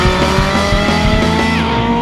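Drag racing car at a Brazilian arrancada strip, its engine roaring loud and close with tire squeal and skidding riding over a dense, continuous mechanical drone.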